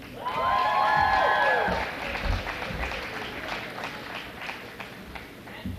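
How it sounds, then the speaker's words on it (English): A crowd at an awards ceremony claps and cheers for silver medal winners, loud at first with a brief whistle-like tone, then settling into quieter scattered applause. "a big round of applause for the silver medal winners"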